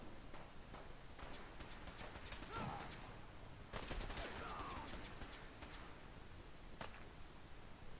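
Gunfire in the video game Fallout 4, sharp shots and short bursts scattered across a busy, moderately quiet background, with a couple of louder clusters midway and a few isolated cracks later.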